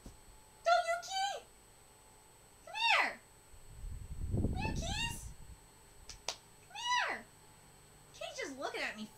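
Cats meow repeatedly in short rising calls spaced a second or two apart, close and clear, with a person speaking between them.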